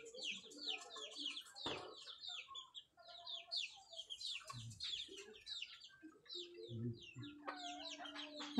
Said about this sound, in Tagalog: Marami pang manok oh.